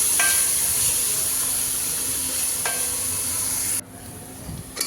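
Green chilies, yardlong beans and potatoes stir-frying in a pan, giving a steady, close hiss of sizzling oil with faint scraping stirs, which drops quieter near the end.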